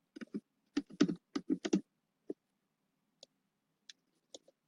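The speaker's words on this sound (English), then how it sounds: "I'm gonna type in Porsche" Quick bursts of keystrokes on a computer keyboard, close and crisp, typing a short word, then a few isolated key taps spaced out across the quiet that follows.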